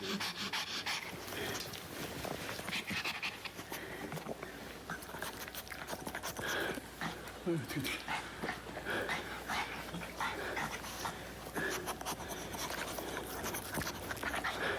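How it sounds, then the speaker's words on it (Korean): A pet puppy, a white one about a month or two old, pants steadily with occasional soft whimpers, heard close against a continuous noisy indoor background. "우리 강아지입니다."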